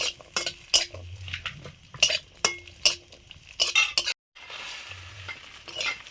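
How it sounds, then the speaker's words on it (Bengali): Cashews and raisins frying in ghee, with a spoon stirring and scraping the pan in repeated clinks and brief sizzling bursts, close by and without talk. "কাজু, কিশমিশ ঘিতে ভেজে নিচ্ছি।"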